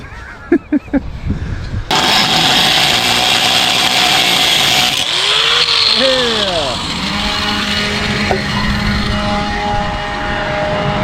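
A power saw cuts through the exhaust pipe of a lowered Nissan D21 Hardbody truck, a loud, steady grinding roar that runs unbroken after a short lead-in, with its pitch shifting as the blade bites.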